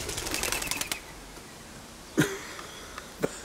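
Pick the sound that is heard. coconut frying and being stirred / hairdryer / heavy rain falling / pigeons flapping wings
pigeons flapping wings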